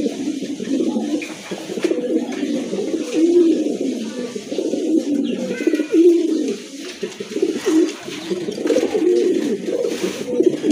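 Red Lahori pigeons coo in repeated soft, throaty phrases close by, with faint rustling and other bird sounds around them and no clear speech.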